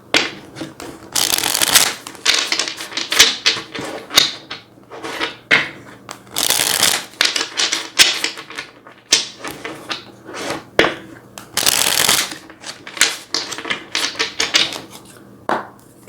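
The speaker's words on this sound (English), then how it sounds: "let's go ahead and get a few more cards" Tarot cards are shuffled by hand in repeated bursts of crisp riffling and flicking, close and loud, separated by short gaps.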